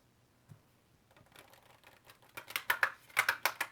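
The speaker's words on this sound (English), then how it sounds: "I'm going to shuffle again" Cards riffle and flutter in quick bursts close by, starting quietly after a soft tap and building into louder shuffling toward the end.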